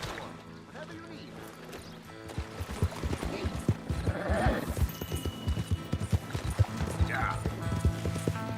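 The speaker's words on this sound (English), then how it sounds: "I'm borrowing your horse" A horse's hooves clip-clop in Red Dead Redemption 2 with a steady, close rhythm that quickens as the ride gets going, with a brief neigh and voices or game sound underneath.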